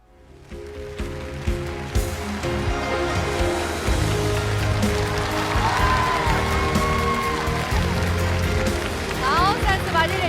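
A studio audience at a televised stage performance breaks into sustained applause that swells after a moment and holds steady, with a faint tonal sound near the end.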